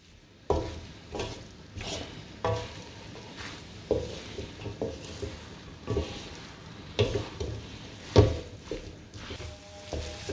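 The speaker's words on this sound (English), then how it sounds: "nicely give a good mix, about 2 to 3 minutes until the sauce is nicely coated with the noodles" Mee goreng noodles coated in sauce are stirred in a pan, soft sizzling under repeated scraping and clanking strokes of a utensil, fairly quiet and steady with no talk.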